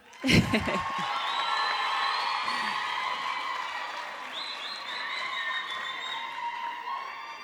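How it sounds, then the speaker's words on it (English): A graduation ceremony audience for Faculty of Commerce graduates breaks into applause with whoops and cheering, opening with a sharp burst that settles into sustained clapping, bright shouts rising over it. "Another round of applause."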